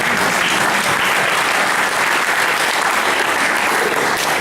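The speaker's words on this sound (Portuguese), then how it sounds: "Podem bater palmas." A crowd at a tribute to General Vasco Gonçalves claps loudly, a dense, sustained wall of applause that fills the room evenly from start to finish.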